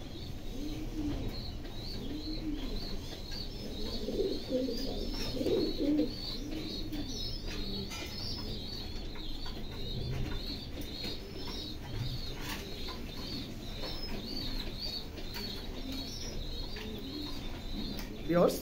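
Imported Damascene pigeons from Dubai coo in repeated low rolling calls while feeding their chicks. Thin chirps and a few wing flutters mix in at close range under steady background noise.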